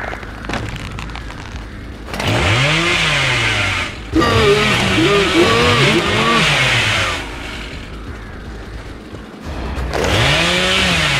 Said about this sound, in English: Why does my chainsaw keep going out too, y'all?